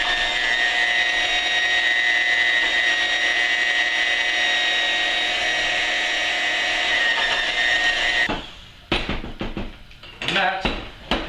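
Mashed potatoes being whisked in a pot make a steady, whirring drone for several seconds, then give way to sharp clinks and scraping clatter of utensil against metal.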